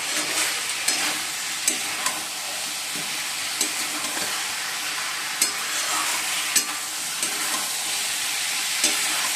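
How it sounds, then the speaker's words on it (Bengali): Cauliflower, potato and paneer sauté in a hot pan with ground spices. A steady sizzling hiss carries throughout, with sharp clinks of a spatula scraping the pan at irregular intervals. No one speaks. "চলো এবার ফুলকপি আলু পনিরটা একবারে দিলাম, ভালো করে কষিয়ে গরম জল দিয়ে দেবো"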